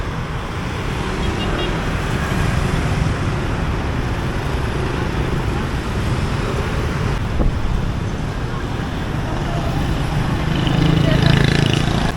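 Busy, chaotic street traffic in Ho Chi Minh City at a crossing with no traffic lights, a steady loud roar of engines and road noise throughout, swelling slightly near the end, with wind buffeting the microphone.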